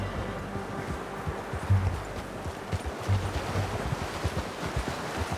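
Horse hooves clip-clop steadily in Red Dead Redemption 2, a soft irregular plodding carried over a low rumble of outdoor ambience, moderately close and without talk.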